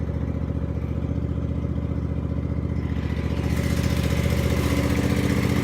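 A small engine mower runs steadily nearby while cutting down dry corn stalks, a continuous mid-pitched motor drone with a rattling clatter that grows brighter and louder partway through.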